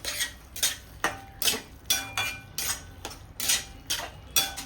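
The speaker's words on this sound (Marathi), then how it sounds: "छान मिक्स करून घेऊया." Frozen peas being stirred in a cooking pan, about nine bright scraping, clinking strokes in a steady rhythm, close and fairly quiet, with no voices.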